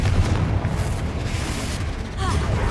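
Confringo fire blast spell in the video game Hogwarts Legacy, a dense booming burst with a rumbling low body and crackling noise over the whole short stretch.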